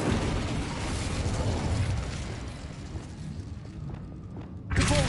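A fire spell cast in Hogwarts Legacy, a roaring, rumbling burst of flame that swells and then fades, ending in a short sharp flare of sound.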